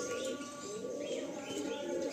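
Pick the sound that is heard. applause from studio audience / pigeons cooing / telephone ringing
pigeons cooing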